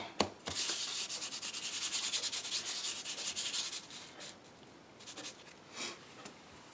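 An embossing buddy is rubbed briskly over cardstock in a papercraft session, giving a steady, close scratchy rubbing that runs for about four seconds and then breaks into a few softer, shorter strokes.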